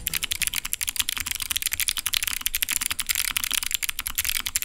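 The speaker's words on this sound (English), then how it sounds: "These are the Arctic Fox Clickies." Rapid typing on a mechanical keyboard fitted with Arctic Fox clicky switches, a dense steady stream of sharp, bright clicks up close.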